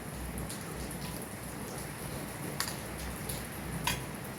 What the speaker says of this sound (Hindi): और बारिश हो गई है बहुत तेज़।